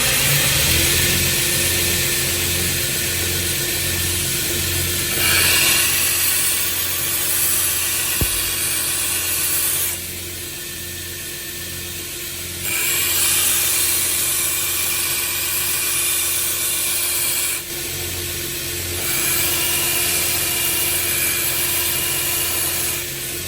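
A 36 grit abrasive grinds the bevel of a small Kentucky axe with a loud, steady hiss over a motor hum, broken into several long passes by brief lulls.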